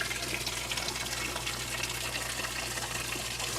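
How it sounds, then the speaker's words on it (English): A 1994 Whirlpool direct drive small-load washer fills with warm rinse water, a steady close gushing rush of water pouring into the tub, continuous and even with no talk. "And this is indeed a warm rinse."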